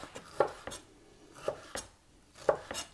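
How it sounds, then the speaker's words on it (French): A knife chops pineapple into small cubes on a cutting board, with three or four quiet, spaced knocks and crisp cuts heard close up, no talking. "On va maintenant le découper en petits cubes."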